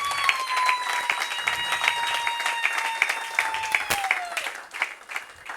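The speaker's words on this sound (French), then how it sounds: "Vous pouvez applaudir pour eux." A church congregation at a revival service claps together for a visiting archbishop and his wife, steady dense applause with sustained music tones underneath.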